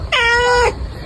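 A house cat gives one clear, close meow lasting just over half a second, rising and holding steady before it stops.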